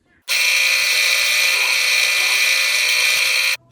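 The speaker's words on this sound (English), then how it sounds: "I'm going to drill down into the circle part, into the little hole at the end" A power drill with a 6mm bit bores into wood on a guitar body build, a loud steady high-pitched whine starting abruptly and running evenly for about three seconds before cutting off.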